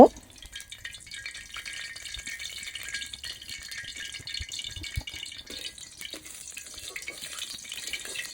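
Dry red chilies fry in hot oil for a tempering, giving a steady, close crackling sizzle that runs evenly for about eight seconds with no talk.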